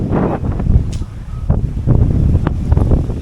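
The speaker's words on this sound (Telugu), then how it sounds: "సడన్గా వెదర్ మారిపోయింది ఒక్కసారిగా హై విండ్" Strong wind in a village during a sudden weather change before rain buffets the microphone in heavy, rumbling gusts that rise and fall continuously throughout.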